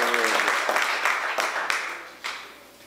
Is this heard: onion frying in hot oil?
no